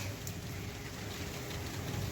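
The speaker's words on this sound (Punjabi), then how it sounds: "ਕਾਫੀ ਮੀਂਹ ਮੋਟਾ ਆ ਰਿਹਾ" Heavy rain pours steadily under a fully clouded sky, a dense, even hiss of falling water that holds at constant loudness without pause.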